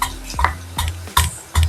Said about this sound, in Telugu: ఒక 3 పచ్చిమిర్చిని వేస్తున్నాను రోట్లో. కొద్దిగా అల్లము, ఒక 5-6 వెల్లుల్లి వేసుకుంటున్నాను. ఇప్పుడు దీన్ని బాగా మెత్తగా దంచుకోవాలి.